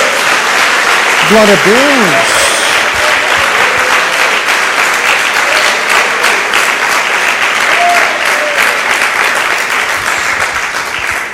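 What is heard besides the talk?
applause for Jesus in a church congregation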